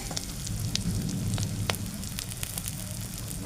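Spice paste with chili powder frying in a pan gives a steady, soft sizzle, close-up and continuous, with scattered small pops and crackles.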